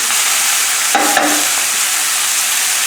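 Shrimp stock pours into chow mein in a hot pan and sets off a loud, steady sizzle, with a brief stirring scrape partway through.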